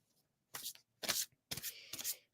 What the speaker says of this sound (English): I have to shuffle with my right hand.